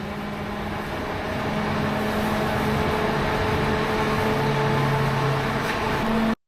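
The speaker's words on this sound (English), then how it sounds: "There's a car starting up outside, revving its engine at the moment quite loudly." A car starts up outside and revs its engine, a steady muffled motor drone heard through a wall, holding fairly loud for several seconds before cutting off abruptly.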